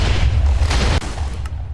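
Items explode in a chain reaction in Minecraft with a datapack, a dense run of deep, overlapping booms that rumble continuously with a few sharper cracks layered on top.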